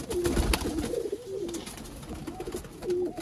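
A Sialkoti pigeon hen cooing in a loft, giving several low, soft coos in a loose rhythm, close by, with faint background rustling.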